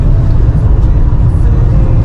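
A Chevy Duramax 6.6 liter diesel pickup with an Allison transmission tows a camper, heard from inside as a loud, steady low engine and road rumble that stays even throughout the short stretch.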